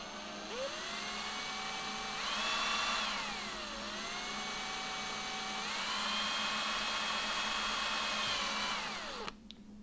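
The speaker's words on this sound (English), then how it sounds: "Using a step drill" A step drill whines steadily at close range as it bores into a plastic action-camera casing, its pitch sagging and rising as it bites, then cutting off abruptly near the end.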